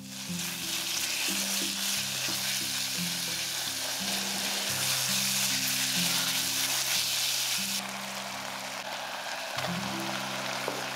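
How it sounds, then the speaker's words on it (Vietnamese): Minced pork stir-fried in a pot with shallot and garlic oil, a loud steady sizzle with scraping stir sounds throughout, easing slightly near the end. "Kế đến mình cho thịt băm vào xào."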